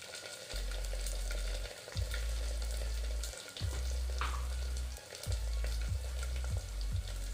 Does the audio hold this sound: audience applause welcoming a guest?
no